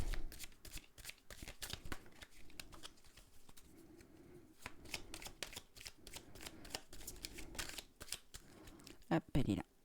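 Tarot cards shuffled by hand before drawing a last card, a soft steady riffling and rustling that continues close up throughout, interrupted by a few sharper snaps and card handling near the end.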